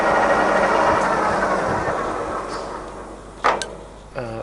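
A used C6256x1500 centre lathe with its spindle running in low range gives a loud, steady mechanical rumble that fades away, followed by a couple of sharp clunks as the machine is handled.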